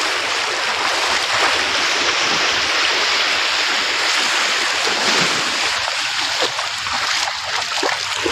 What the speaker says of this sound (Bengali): সাগরের ঢেউ বারবার এসে পা ভিজিয়ে দিয়ে যাচ্ছে।